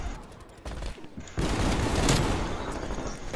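Gunfire in the video game Black Ops Cold War, a dense burst of rapid shots that starts suddenly and keeps going loud and steady to the end.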